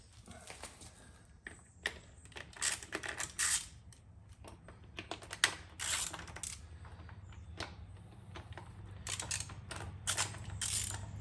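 A ratchet loosens the small bolts holding the air intake cover on a Yamaha Bolt motorcycle, making repeated close clicking and metallic clinks in short bursts with pauses between them.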